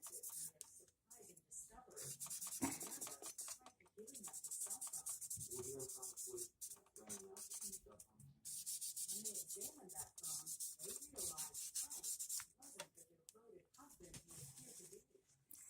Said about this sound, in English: So I'm just going to sand that out a little bit more with the 2000 grit sandpaper.